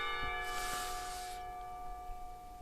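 Lingering ring of an old-fashioned clock tower bell, a sustained metallic hum decaying quietly, briefly covered by a soft rushing noise, with no talking.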